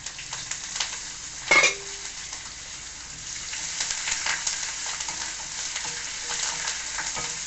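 Dried red chillies and curry leaves sizzle and crackle in hot tempering oil, with a sharp spitting burst near the start, then a steady frying hiss with light stirring throughout.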